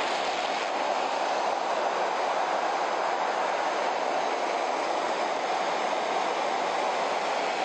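A HoverMatt air transfer mattress inflates with its blower running: a loud, steady, broadband rushing roar that holds constant throughout, with no talking.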